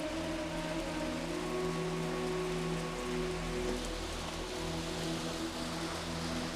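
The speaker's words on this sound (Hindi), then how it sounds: "बारिश भी हो रही है, अच्छा मौसम हो रखा है" Rain falls steadily outdoors, a constant even hiss of drops on surfaces with a faint low hum underneath, soft and unbroken, with no voices.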